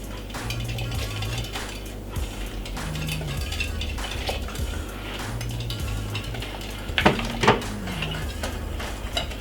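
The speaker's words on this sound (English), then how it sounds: "you want to take a little time and whisk it because you don't want it to be lumpy" Metal whisk working liquid into a Jamaican cornmeal pudding mixture in a bowl, giving a steady run of scraping, clinking strokes with a few sharper knocks near the end, close and moderately loud, with a low steady hum underneath.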